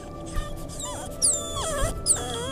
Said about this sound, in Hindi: अचानक से कुत्ते भौंकना बंद कर देते हैं और धीमी आवाज़ में रोना शुरू कर देते हैं